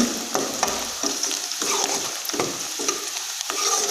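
Onions frying in a pan, turning pink and lightly browned for a village-style palak gosht, with a steady loud sizzle and intermittent stirring scrapes, close and without talk.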